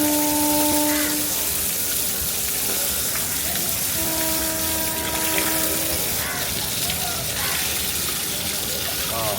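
Water splashing and gushing as a person washes off, a continuous loud spray and trickle with tonal hums and clatter in the background.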